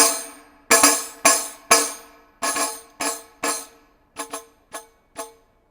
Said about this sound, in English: first I'll use the tambourine